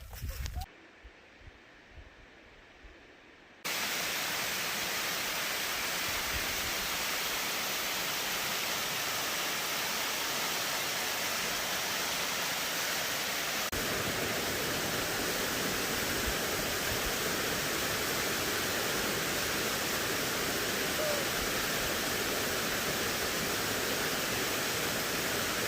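A waterfall on the Appalachian Trail roars as a dense, constant wash of falling water, loud and close, after a few seconds of quieter footsteps and rustle at the start.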